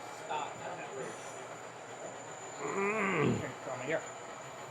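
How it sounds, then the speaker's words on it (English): A model railroad train runs along a club layout, giving a soft rumble with faint wheel squeal and clatter that swells briefly midway, while people talk nearby. "We've got a train coming."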